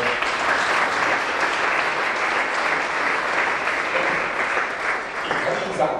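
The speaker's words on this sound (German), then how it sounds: "Nochmal Applaus für die Ideengeberin" Audience applause at the Tollhaus in Karlsruhe during a 7x7 creative event, sustained dense clapping from a full hall that holds steady and tapers slightly toward the end.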